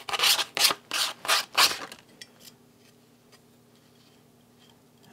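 Sandpaper rubbed around the inside and outside edges of a Lixada titanium alcohol stove snuff cap: four quick, close, scratchy strokes, then near silence.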